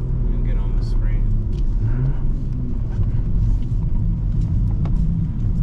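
A BMW M340i engine rumbles steadily from inside the car as it downshifts, a low continuous drone with brief revving swells, while people talk over it throughout.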